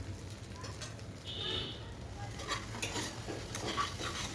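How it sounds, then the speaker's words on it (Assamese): Quiet scraping and stirring of onions and spices dry-roasting in a pan, soft irregular strokes with a faint sizzle and a few light clinks of a utensil against metal. "আৰু এইখিনিও মাজে মাজে লৰাই আছোঁ"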